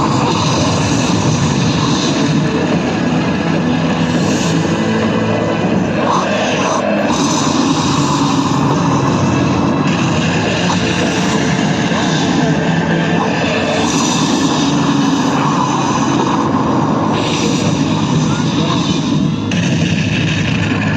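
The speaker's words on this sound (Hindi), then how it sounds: "भारतीय वायुसेना की गरज की ललकार दूर से सुनाई पड़ी" Indian Air Force fighter jets roar in a dense, continuous wall of sound that stays loud and steady for the whole stretch, with occasional heavier thuds rising out of the rumble.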